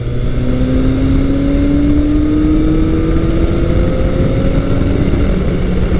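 A 1986 Yamaha FJ1200 motorcycle pulls away on a road ride, its engine droning steadily and climbing in pitch as it accelerates, with loud continuous wind rush over the whole stretch.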